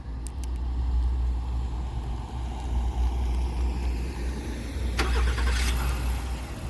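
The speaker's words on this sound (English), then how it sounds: "it starts up. There's a nice startup sound, as you could hear." A 2025 Acura MDX A-Spec engine starting by remote start, outdoors: a steady low idle-like rumble, then a sharp crank and flare of revs near the end, close by with no talking.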